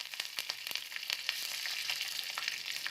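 Dried red chilies and curry leaves frying in hot oil for a tempering, a fairly faint, continuous crackling sizzle with sharp pops scattered throughout, no voices.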